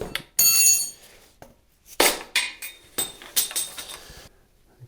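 Knocking out a plug in a Yanmar 4TNE98 replacement engine with a length of PVC pipe, a series of sharp hard knocks and clinks, spaced unevenly and close by, with quiet gaps between strikes.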